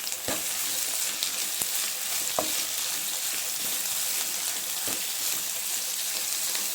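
Onions and bansi rava semolina fry for upma in a pan, giving a steady close sizzle broken by a few sharp clicks of stirring, with no one talking.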